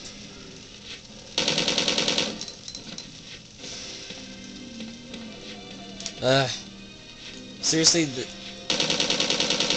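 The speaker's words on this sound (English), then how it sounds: "it kind of creeps me out how many shots it takes to kill a zombie with a machine gun" Machine gun fire aimed at zombies in Resident Evil 2, two sustained bursts of fast, evenly spaced shots near the start and end, with a person speaking in the quieter gap between them.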